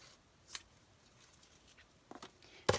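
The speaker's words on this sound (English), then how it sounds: "Scissors." Scissors cut ribbon in a few quiet, brief snips spaced a second or two apart. The last snip is the sharpest, and the room is otherwise quiet.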